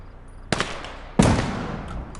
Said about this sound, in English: That's the grenade. And a second grenade.